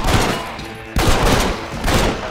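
Three heavy, booming high-powered pistol shots in Red Dead Redemption on Xbox One S ring out about a second apart, each loud and close with a long decaying tail, and no talk.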